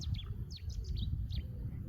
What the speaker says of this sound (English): You can hear Chetty's warbler already.